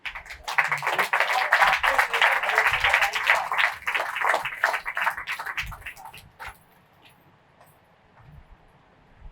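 Rhythmic clapping from a church congregation during a sermon, dense and loud for about six seconds before fading out to quiet.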